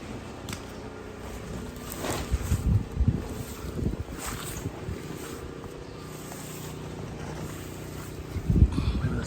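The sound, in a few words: strong wind gusts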